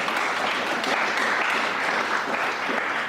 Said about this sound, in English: Big round of applause for all our sponsors.